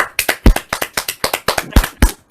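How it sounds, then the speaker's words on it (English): Zoom call participants clapping for a guest, a dozen or so sharp, uneven claps close to the microphone across a couple of seconds with no voices over them. "we'll just give Harvey a massive round of applause"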